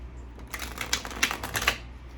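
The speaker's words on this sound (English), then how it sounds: "it feels weird not to at least shuffle it once before dealing them out here" A deck of oracle cards shuffled by hand, a short burst of rapid crisp clicking riffles that rises and stops after about a second, close and fairly quiet.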